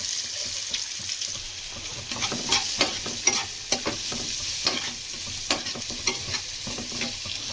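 Onions, curry leaves and green chillies fry in a little oil in a kadai for chicken masala, with a steady close sizzle and repeated scraping, clacking stirs throughout.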